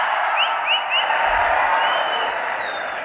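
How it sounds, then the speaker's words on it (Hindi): Broad, steady crowd applause welcomes an actress on stage, a dense wash of clapping and cheering from a large audience with a few whistles cutting through. "जोरदार तालियों से उनका स्वागत करिए।"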